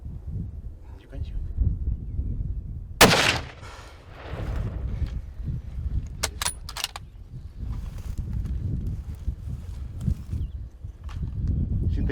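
A single rifle shot while hunting ibex in the Spanish mountains: one sharp, loud crack midway through, set against steady wind noise and rustling, with a voice speaking quietly before it.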